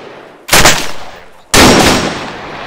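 Two loud, sharp gunshot blasts about a second apart in the ArmA 3 co-op military shooter, each followed by a long decaying rumble of echo.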